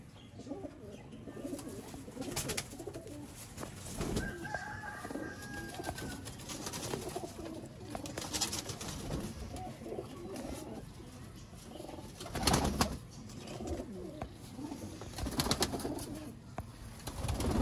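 Sialkoti pigeons, a rare breed kept as breeding birds in a loft, coo softly through a long stretch. The calls are fairly faint and repeated, with occasional rustling and small bumps nearby and no talking.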